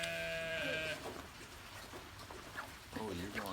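A domestic goat on a homestead gives a loud, wavering bleat at the start, then a fainter second cry near the end, with quiet outdoor background between.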